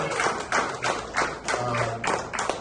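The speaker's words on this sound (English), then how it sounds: "we just want to give all the contestants one more round of applause" Comedy contest audience applauding the contestants, a dense wash of clapping that swells in rhythmic bursts about every half second, moderately loud and close, with no voices standing out.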